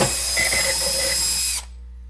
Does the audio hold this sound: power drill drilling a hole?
yes